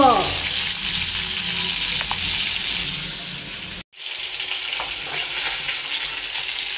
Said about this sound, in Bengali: আমার মাংস ভাজা হয়ে গেছে